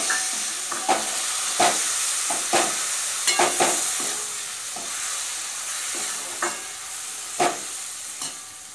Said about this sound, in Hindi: और अब इसमें हम टमाटर डालेंगे।